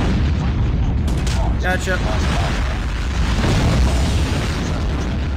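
An explosion from a nuke in the mobile shooter game Call of Duty Mobile booms steadily through loud game noise, with gunfire and a player talking over it.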